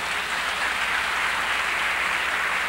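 An audience at a Hall of Fame tribute applauds for calypsonian Roderick Lewis, the Mighty Viper, a dense, steady wash of clapping that holds at even loudness throughout, with no voices standing out.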